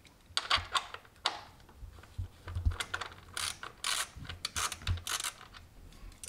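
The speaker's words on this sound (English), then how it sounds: "we need to start removing these 10 millimeter bolts right here" A hand ratchet works 10 mm bolts loose on a Kia Optima 2.4L GDI engine during valve cover gasket replacement, giving repeated close, sharp clicking bursts in an irregular rhythm with short pauses between.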